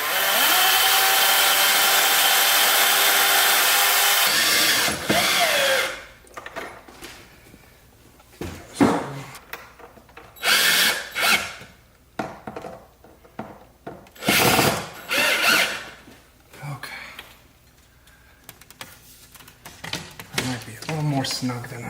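A power drill drives a screw into an IKEA SKOGSKLÖVER blind bracket. A loud continuous whir at the start gives way to short, spaced bursts of drilling between spoken words.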